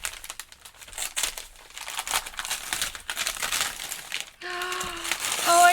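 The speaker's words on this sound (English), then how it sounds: "And then I also have the envelope to open." Gift envelope being opened with crinkling and crumpling paper, a run of close, irregular rustles and tears, followed by a brief tonal squeak or sound near the end.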